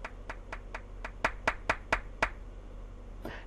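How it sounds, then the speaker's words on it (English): Nine sharp hand claps, sparse at first and then louder and more regular, from a small group of morning attendees answering a speaker at an orientation talk, followed by a brief rustle. "If so, please clap."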